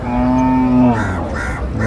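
A cow at a livestock market gives one long, loud, close moo that drops off partway through, followed by quieter market background noise.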